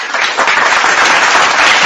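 Loud, close burst of audience clapping and applause, a dense continuous patter of many hands at a lively gathering.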